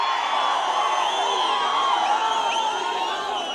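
A large crowd at a political rally in Anantapur district cheers and shouts continuously, a dense, loud wash of voices with whoops rising above it, sustained without a break.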